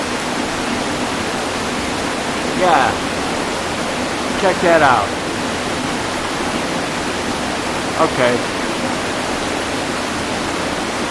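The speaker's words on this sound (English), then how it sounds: "I'm getting seriously dripped on, and I think you can see how wet the rocks are" Water drips and trickles steadily through a wet rock cave near Pradis, Italy, a broad hiss of running water filling the space, with a few brief voices speaking over it.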